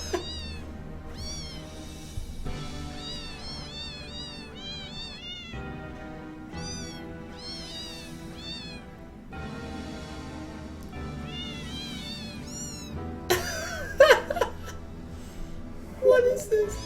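Cats meow over and over in a Christmas-themed cat compilation, loud and close, with overlapping cries that rise and fall. A brief clatter of other noise breaks in near the end.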